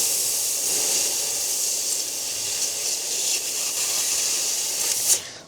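An xTool laser welder cutting carbon steel gives a steady, close hiss that runs without a break, with a short sharp flare near the end.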